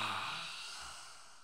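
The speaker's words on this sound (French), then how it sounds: "Et on expire rugissement." A single long, breathy roaring exhale in yoga lion's breath, starting strong and tapering off gradually over a second and a half, close and fairly quiet with no talk over it.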